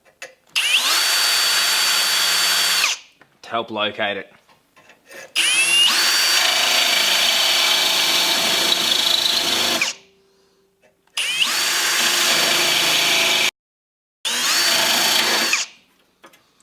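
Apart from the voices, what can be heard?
power drill drilling small hole in metal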